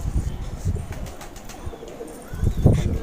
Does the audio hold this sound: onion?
no